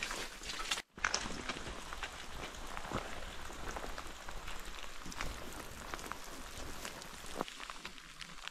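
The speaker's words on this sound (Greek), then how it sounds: "Λατρεύω πάρα πολύ τους ήχους της φύσης, δηλαδή η βροχή" Steady rain patters across a misty mountain forest on Koziakas, a dense, even hiss of drops that continues throughout with a brief dropout near the start and no voices.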